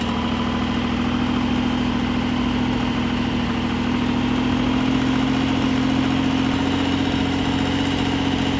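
1973 Citroen SM engine idling with a steady, even hum and a low vibration that hold close and constant, while the hydraulic suspension builds pressure and lifts the car to riding height.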